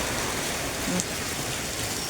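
Steady rain falling close by at a house, a dense, even hiss without pause.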